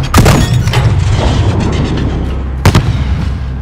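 Heavy blasts from the Call of Duty Modern Warfare campaign, a loud booming burst near the start followed by a rumbling tail and a second sharp explosion later, with no talk over it.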